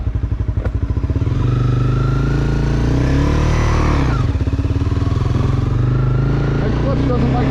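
Honda CBR250R motorcycle engine while riding, a loud close throbbing rumble that rises in pitch as it revs, dips briefly, then climbs again, with a voice speaking faintly over it.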